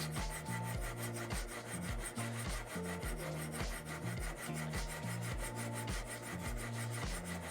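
Hand sanding of a knife blade with a Tyrell Knifeworks Sand Shark sanding tool makes a steady, close, rhythmic back-and-forth rasping scrape, even in loudness throughout with no talk.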